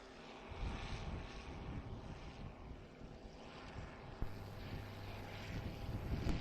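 An offshore racing superboat, the Venturi X-Team 3 victory hull rated around 1,500 to 1,600 horsepower, leaves a marina on a lake with a steady low engine drone in windy open air, heard from a distance.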